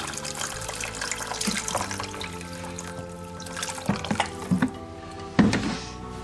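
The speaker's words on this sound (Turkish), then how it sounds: "5 bardak suyu ekliyoruz." Water poured into pumpkin soup in a kitchen, a steady running trickle with splashes and some clinks of utensils or containers.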